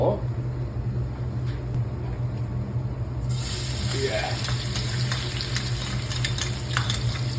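Garlic fries in oil for a tarka, with a steady close sizzle that brightens into louder crackling partway through, while a person talks over it.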